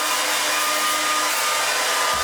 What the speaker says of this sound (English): I also go in from the bottom with the hair dryer, the blow dryer as well